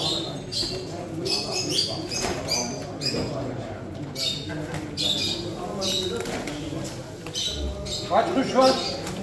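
Pigeons coo and squawk among many birds at a bird auction, with repeated overlapping calls under steady talk from people nearby.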